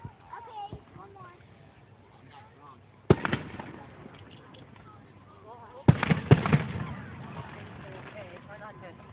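Celtic fireworks display, with two sharp booms a few seconds apart and a cluster of crackling bursts after the second, heard at a distance while people nearby talk.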